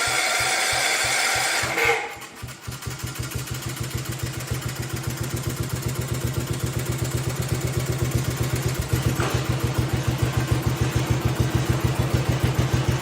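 A 1971 110 engine, newly converted to battery ignition, cranks and then catches, settling into a steady, rapid mechanical idle with a clattering beat that runs close and loud for about ten seconds.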